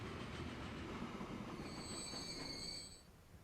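A train in a railway video game runs with a continuous rumbling roar and a drawn-out squeal of wheels, easing off near the end, with no voices.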